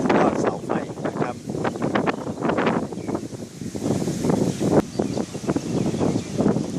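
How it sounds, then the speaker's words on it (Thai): Strong wind gusts buffet the microphone at the Lam Pam floating market waterfront in Phatthalung, a loud rough rumbling roar that swells and dips continuously with no one speaking. "ลมพัดเย็นสบายดีมากครับวันนี้ครับ"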